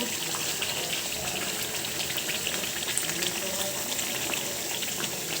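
Roast masala with tamarind water frying in a pan, a dense, loud and continuous sizzle and bubbling hiss with no talk.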